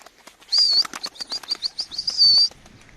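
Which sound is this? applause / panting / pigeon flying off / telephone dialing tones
pigeon flying off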